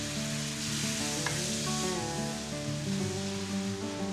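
Boiled potatoes, carrots and peas frying in spices for samosa filling give a steady, loud sizzle throughout, with faint stirring scrapes and no talking.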